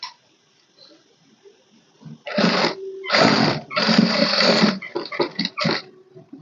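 A sewing machine stitches a blouse sleeve in several short runs, loud close bursts of rapid needle rattle separated by quiet pauses and small handling clicks.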